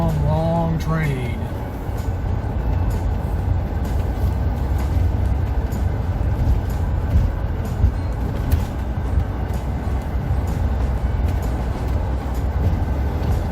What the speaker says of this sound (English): That's a long, long train.